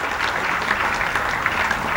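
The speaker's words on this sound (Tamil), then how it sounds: "கைத்தட்டல்கள் மூலம் இந்த நேரத்தில் மனமார்ந்த நன்றியினை தெரிவித்துக் கொள்ளலாம்" Steady applause from an audience at a Tamil Nadu government hockey event, a dense even wash of many hands clapping at once, filling the whole moment without speech.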